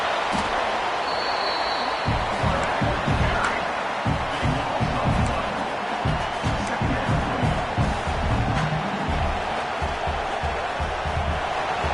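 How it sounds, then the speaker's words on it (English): Loud, dense stadium crowd roar in the video game NCAA 26 fills the whole stretch, steady and vibrating, with rhythmic low thumps and swells of cheering underneath. "listen to this crowd noise. This stadium is vibrating"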